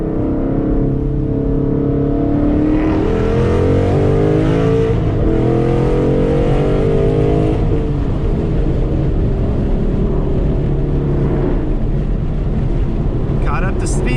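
A car picking up speed while merging onto a freeway, with a steady loud engine and road roar whose pitch climbs and then settles into cruising, close inside the cabin, and a voice talking over it.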